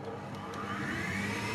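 An electric kitchen mixer runs steadily throughout, a continuous close whirring motor hum at even loudness with no talk over it.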